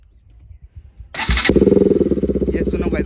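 A Pulsar RS 200 motorcycle fitted with an Austin racing exhaust cranks over and fires up close by, settling at once into a loud, steady, throbbing idle.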